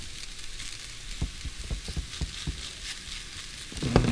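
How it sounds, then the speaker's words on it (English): Food frying in a pan after a scattered dusting of salt, giving a steady broadband sizzle with faint crackles and a few soft low knocks, moderately close, no talking. "Listen to that sizzle."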